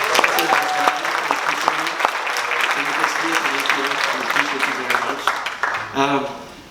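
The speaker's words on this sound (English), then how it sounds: "Let's have a round of applause for Tamika for hosting." An audience at an awards honors event claps in a dense, sustained burst of applause, with voices speaking over it as it thins out toward the end.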